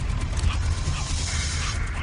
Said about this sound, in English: He heard the sound of puppies barking.